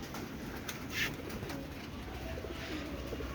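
Soft cooing from Palla pigeons in a noisy outdoor setting, a few low coos mixed with a brief higher chirp.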